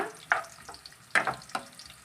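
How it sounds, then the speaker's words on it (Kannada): Onions are frying in hot oil, with soft crackling sizzle and a few sharp spatters or stirring clicks in short bursts, close up and fairly quiet. "ನಾನಿಲ್ಲಿ ಒಂದು ಸ್ವಲ್ಪ ಈರುಳ್ಳಿಯನ್ನು ಹಾಕ್ತಾ ಇದ್ದೇನೆ ರೀ ಸ್ವಲ್ಪ ಈರುಳ್ಳಿ ಹಾಕಿಬಿಟ್ಟು ಸ್ವಲ್ಪ ನಾವು ಫ್ರೈ ಮಾಡ್ಕೊಳ್ಳೋಣ"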